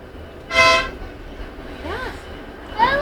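A tram arrives with short, loud horn toots, one early and another at the end, plus a faint bell-like chirp between them, over low rolling rumble and street ambience.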